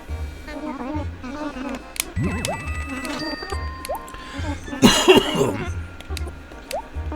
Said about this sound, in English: So I had me a little bit of a coughing fit there.